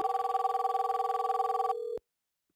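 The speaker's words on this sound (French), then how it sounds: "admettons que je prenne ce téléphone-ci pour initier l'appel vers le 5004" A call is placed on a Cisco IP phone: a steady pulsing ringback tone plays at close range for just under two seconds, then cuts off into silence.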